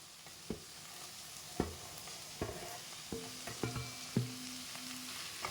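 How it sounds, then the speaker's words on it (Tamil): Carrots and beans sauté in a pan for masala dosa filling under a soft, constant sizzle, punctuated by about half a dozen sharp spatula knocks and scrapes as the vegetables are stirred. "இப்போ கேரட்டு பீன்ஸையும் போட்டு நல்லா வணக்கிக்கலாம்"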